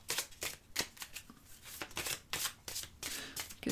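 Oracle cards being shuffled close up, with rapid repeated riffling bursts in an uneven rhythm that continue from start to finish without talk.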